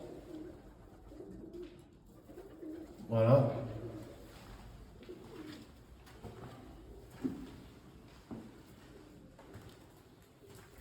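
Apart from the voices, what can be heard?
pigeons cooing in an attic of an abandoned hospital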